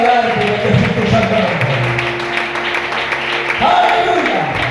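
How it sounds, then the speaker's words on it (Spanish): Church congregation claps along under a worship service, sustained applause mixed with sustained organ-like music and some voices, fairly loud and continuous throughout. "Recibe este aplauso de tu iglesia"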